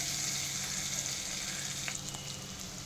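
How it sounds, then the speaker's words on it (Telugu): Chopped spring onions frying in a pan with mustard seeds and cumin make a steady, dense sizzle throughout, close and continuous, with a couple of faint clinks near the end and no talking. "కొంచెం ఉల్లికాడలు కూడా ఇలా వేసుకొని బాగా ఫ్రై చేసుకుంటాం"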